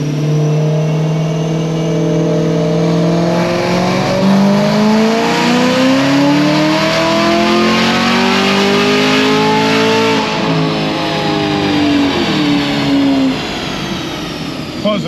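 A Chevrolet LT4 ZL1 engine on a dynamometer runs a loud, sustained pull, its tone climbing steadily through the rpm range for over ten seconds before easing off near the end.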